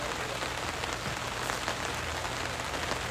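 Steady rain falls outdoors at a baseball game, a dense continuous hiss of drops on surfaces with no talk.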